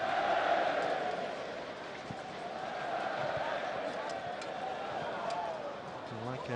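A stadium crowd in Basel at a Switzerland versus Germany football match keeps up a broad, sustained roar of singing and cheering, distant and steady, while a commentator talks over it.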